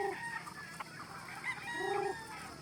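Chickens on a game farm cluck repeatedly as they crowd around someone coming through the gate, with short overlapping calls close by.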